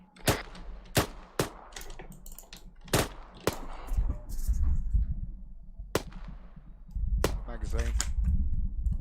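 Rifle gunfire in Arma 3 as sharp, loud shots spaced irregularly over a steady rumble, with some shots coming in quick pairs and voices talking in between.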